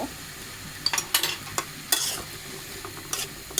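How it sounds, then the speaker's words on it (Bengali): Mixed vegetables with turmeric are stirred in a frying pan, a soft background sizzle broken by irregular scraping clatters of a spatula against the pan. "এখন হলুদ দিয়ে নেড়ে ছেড়ে দিলাম"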